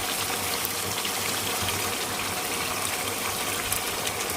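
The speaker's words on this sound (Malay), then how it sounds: "Kita masukkan air asam jawa mengikut keperluan." Tamarind water is poured into a pan of chicken sambal, a steady close liquid pour and sizzle filling the whole stretch without any talking.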